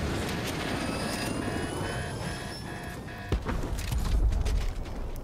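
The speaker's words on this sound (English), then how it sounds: "He just blew up my helicopter" A steady mechanical rumble of helicopter rotors in Fortnite runs throughout, broken by a sharp thud and a louder rumbling burst near the end as the helicopter is blown up.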